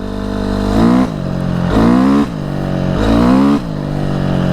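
A stock Honda CR125R two-stroke motorcycle engine revs hard three times in a row, each rising whine climbing in pitch and then dropping back to a rough idle, loud and close with no talk.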